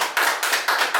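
A round of applause from a small studio group on an entertainment talk show, heard as bursts of close, dense clapping that swell and dip several times in just over a second.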